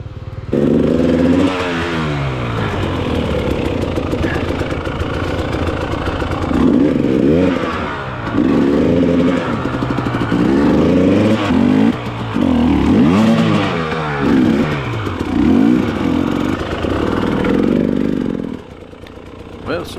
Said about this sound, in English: some tire spins, some engine rev, and some helping pushes, I finally do make it up over the hill